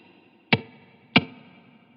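Two sharp guitar hits played through a Line 6 HX Stomp with a long-decay plate reverb, each strike followed by a shimmering tail that fades slowly, with no talking.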